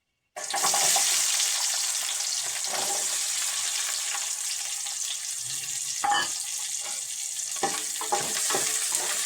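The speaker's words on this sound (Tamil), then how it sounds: "கொஞ்சம் வெங்காயம் போட்டுக்கலாம்" Onions hit a hot pan for chicken curry and sizzle loudly and steadily at close range, with occasional stirring scrapes and no talking.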